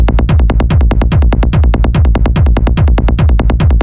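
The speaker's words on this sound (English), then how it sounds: "So now let's turn the kick back on, and if we press play, it'll sound like this." Psytrance bass patch built in Serum, with a kick drum and sidechain pumping: fast, evenly spaced punchy kick-and-bass hits roll continuously for several seconds, loud and clean, then stop abruptly.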